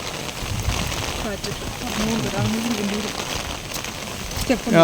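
Heavy rain with strong wind at Illikkal Kallu hilltop in Kerala: a dense, steady hiss of rain and gusts close to the microphone throughout, with people talking over it.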